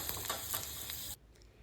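Chilli cauliflower fries in a pan with a loud, steady crackling sizzle and occasional stirring scrapes, cutting off abruptly to near quiet.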